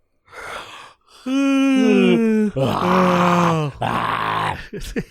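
A person imitates a yawn with long, drawn-out groaning vocal sounds, rising and falling in pitch, heard close up.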